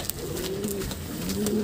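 Domestic pigeons at a loft give low, rolling coos, several overlapping calls close by, with no talking.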